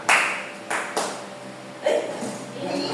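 A primary-school class in grade 3 claps several times, with sharp bursts spaced unevenly and a faint voice in the background.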